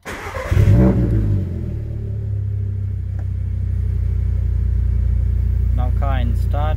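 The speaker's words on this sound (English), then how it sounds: "Starting car." A car engine cranks and catches with a brief rev, then settles into a steady, close idle hum, and a person starts talking near the end.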